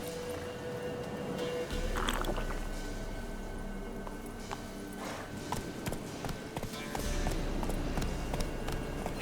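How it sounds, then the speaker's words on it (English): Horses' hooves clip-clop steadily along in The Witcher 3, a rhythmic galloping patter over a constant rumble of game ambience and music, fairly loud throughout. "Horses!"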